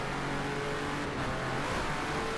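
A racing video game car engine revs hard and steadily, holding a droning pitch through a gear shift taken too early, with a brief dip and rise in the engine note; no voices.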